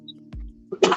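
A person close by clears their throat with a low rumble, then lets out a harsh, loud cough burst near the end.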